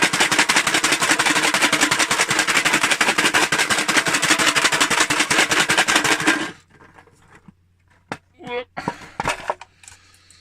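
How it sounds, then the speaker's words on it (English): Stones and cut brick pieces are shaken hard in a tin, making a loud, dense, continuous clattering rattle for several seconds up close. It then stops, leaving near silence and a few brief voice sounds. "and the stones all bang together and take the edges off and smooth the edges round and the corners out"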